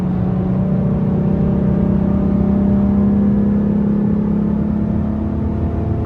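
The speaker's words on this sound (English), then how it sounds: "I don't think I've ever seen anyone actually drive a Hennessy Mustang." A Hennessy Mustang passes on a highway, heard as a loud, steady low engine drone and road rumble that holds constant, with no voices.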